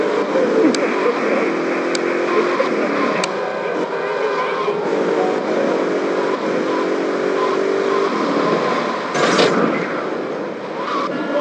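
A car engine drives steadily in the GTA 3 video game on Android, a sustained loud hum with a few brief clicks and a short burst of noise near the end, with no speech over it.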